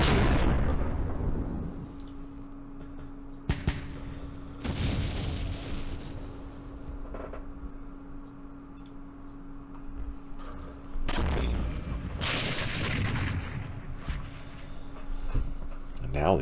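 Artillery shells landing in the Campaign Series Middle East war game: several heavy bursts and booming impacts spaced irregularly, separated by quieter stretches with a low steady hum and some talking over them.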